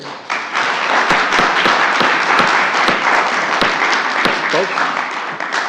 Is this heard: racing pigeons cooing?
no